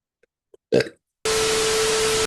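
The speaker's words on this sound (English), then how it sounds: "I have to burp." A short, loud burp close to the microphone, followed by a steady electronic tone with hiss.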